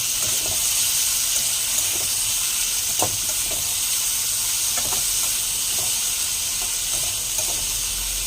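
Pumpkin and potato peels stir-fry in a pan, a loud constant sizzling hiss with scattered scraping knocks from stirring, no talking.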